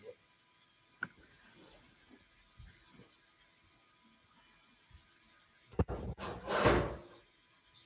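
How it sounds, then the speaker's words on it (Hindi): A room door is shut in a quiet lecture space. Faint shuffles and a click come first, then a louder cluster of bumps and a closing thud near the end. "ज़रा ये दरवाज़ा बंद कर लूँ,"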